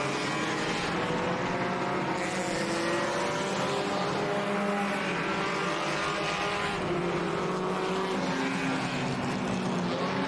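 Front-wheel-drive enduro race cars lap Orange Show Speedway in a continuous roaring pack of engines, loud and steady throughout with shifting pitch as cars pass close by.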